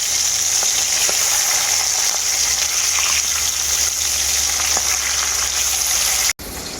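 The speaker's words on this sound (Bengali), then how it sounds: "মাছের দু পিসটাই পাল্টে পাল্টে আমি খুব ভালো করে ভেজে নিয়েছি" Pieces of silver carp fry in hot oil with a loud, dense, continuous sizzle that cuts off abruptly near the end before resuming.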